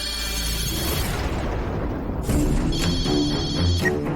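A telephone rings in a repeating electronic pattern over a dense, loud music bed, with the ring tones stopping and restarting midway.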